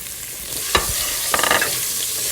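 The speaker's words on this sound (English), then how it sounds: "let's stir fry these for about a minute or 2" Small cauliflower florets tossed in hot oil with turmeric sizzle in a pan, a soft steady hiss broken by two quick stirring scrapes, close and fairly quiet, with no talking.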